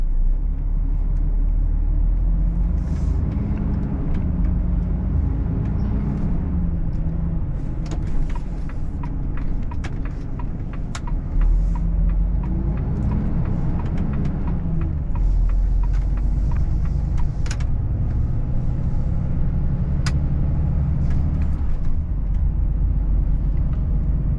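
Cab interior of a Volvo truck cruising on a French road, with a loud, continuous low engine and road rumble, steady throughout, and scattered faint clicks and rattles over it, with no one talking.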